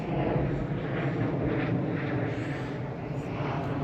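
Airplanes flying near Ford Airport give a steady, broad engine rumble that stays loud and even, with no speech over it.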